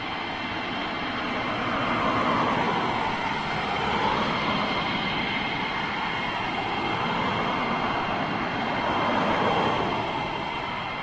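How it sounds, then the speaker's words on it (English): KC-135 tanker aircraft depart RAF Mildenhall, a continuous distant jet roar that swells and eases in broad waves, steady and fairly loud with no speech over it. "3 KC 135 tankers just gone out of Mildenhall"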